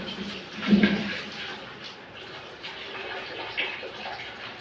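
Water streams steadily from a household tap during dishwashing, a soft continuous wash with a brief louder splash near the start.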